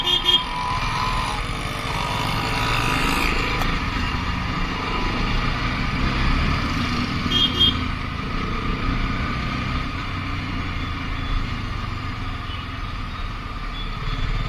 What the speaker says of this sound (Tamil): வண்டி ஒரு மாதிரி உருங்குது வண்டி